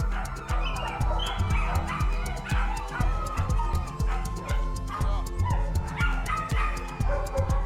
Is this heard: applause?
no